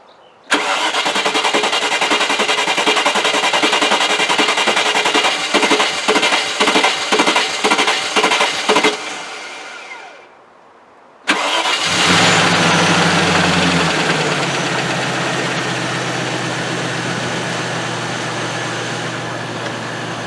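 A Range Rover with a fuel pressure fault cranks at length in a rhythmic whirring churn, falls silent for a moment, then fires on a second attempt and settles into a steady, close idle.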